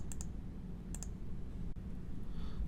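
Mouse clicks while setting tool limits on a KEYENCE CV-X machine vision system: two quick double-click pairs near the start and another around one second, crisp and close over a steady low room hum.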